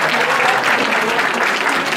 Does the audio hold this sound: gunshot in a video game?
no